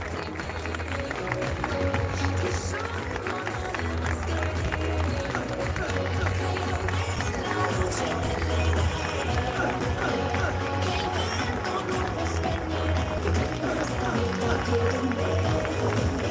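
Applause from an audience for the models at a fashion show: a continuous, fairly muffled crowd roar of clapping and voices, steady for the whole stretch, under a low hum.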